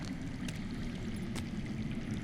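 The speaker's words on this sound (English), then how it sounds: "I hear water. From underground." Underground water flowing in Game of Thrones Telltale, a soft continuous rushing stream under faint ambience, steady and distant, with a couple of brief clicks.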